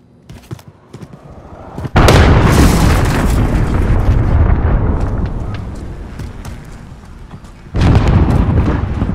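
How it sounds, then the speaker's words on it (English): A cruise missile strike in Call of Duty: Modern Warfare lands as a loud, close boom followed by a long roaring, rumbling blast, with a second powerful explosion hitting near the end. "Enemy cruise missile incoming."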